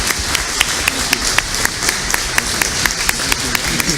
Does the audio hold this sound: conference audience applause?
yes